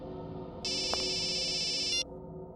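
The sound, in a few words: phone ringtone ringing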